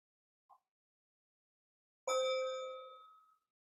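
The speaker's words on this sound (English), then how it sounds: "My little bell is against something else here." A small bell gives a brief tap, then after a pause rings once, clear and close in a quiet room, its bright tone fading over about a second.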